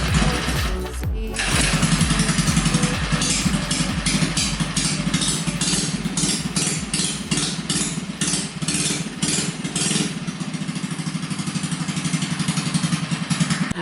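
A Volkswagen mini bike engine starts with a sputter, then runs loud and close at a steady idle with a rough, pulsing drone and slight revving throughout.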